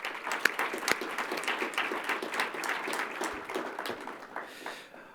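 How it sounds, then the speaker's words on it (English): An audience claps at a ribbon-cutting ceremony opening the Southern Arizona Technology and Entrepreneurs center, a sustained wash of many hands heard at moderate distance that thins out toward the end. "Let's give them another round of applause."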